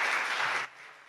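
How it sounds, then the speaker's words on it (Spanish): Audience at a panel on defending Maseual territory and culture in the Sierra Norte de Puebla applauds the invited guests; a brief wash of dense clapping that drops off sharply to a faint tail. "Un aplauso para nuestros invitados."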